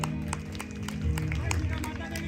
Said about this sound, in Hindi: एक जोरदार ताली लक्ष्मण के लिए